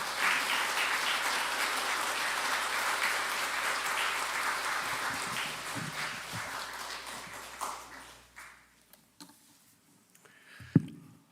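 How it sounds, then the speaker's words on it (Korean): Sustained applause from a church congregation at a Sunday evening worship service greets an elder coming forward to preach, dense and steady for about eight seconds before thinning into scattered claps and quiet. "큰 박수로 환영하겠습니다"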